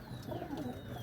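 Pigeons, a mix of desi and colourful fancy breeds, coo softly in a low, rolling murmur that stays faint and continuous over a brief moment, with no voices.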